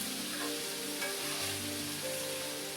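Shrimp sizzle and fry steadily in a hot pan for a homemade pesto dish with asparagus, a continuous close crackling hiss with no voices over it.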